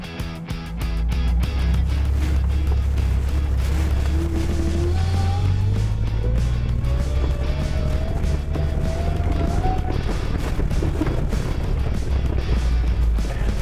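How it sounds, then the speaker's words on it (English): A supercharged 2007 Jeep Wrangler JK with a 3.8L engine climbs a hill in first gear under light throttle, its loud, steady engine drone rising gradually in pitch with a whining note building over the climb. "That was first gear, gave it a little bit of throttle, came up the hill with a little bit of speed"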